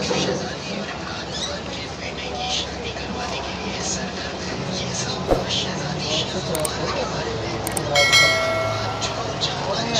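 The 8 Down Tezgam Express passenger train departing a station, a continuous rumble of rolling wagons under faint talk, with a brief high whistle-like tone near the end.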